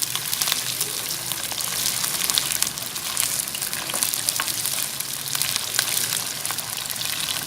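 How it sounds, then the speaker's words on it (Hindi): Fish shallow frying in oil over a medium flame for a fish karahi, a continuous dense sizzle and crackle close up with no talking. "मैं इसको मीडियम फ्लेम पे शैलो फ्राई कर लूँगी।"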